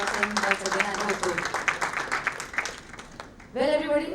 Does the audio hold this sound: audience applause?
yes